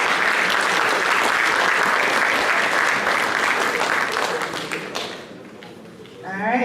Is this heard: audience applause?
yes